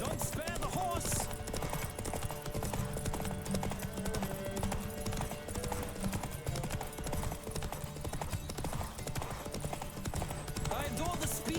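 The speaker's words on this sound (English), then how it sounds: "Don't spare the horse!" A horse races at full gallop in The Witcher 3, its rapid, continuous hoofbeats drumming under game music while voices call out now and then.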